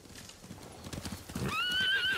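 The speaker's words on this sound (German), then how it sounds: "Die Hunde haben die Pferde verjagt. Das sind Samurai-Rösser." Samurai horses in the video game Ghost of Tsushima clop rapidly in a galloping rhythm, then one lets out a shrill, wavering neigh over the pounding.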